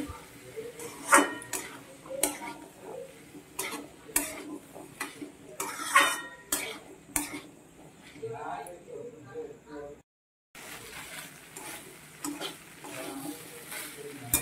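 Chickpeas are stirred and sautéed in a pan, making repeated clanking spoon strikes and scrapes with a low sizzle underneath, a voice talking at times, and a brief dead gap near the end.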